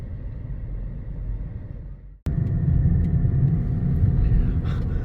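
A car drives along a winding mountain road near Doi Pui village in Chiang Mai, Thailand; a steady low engine and road rumble runs throughout, briefly dipping before a door-like thump, then continuing loud and close.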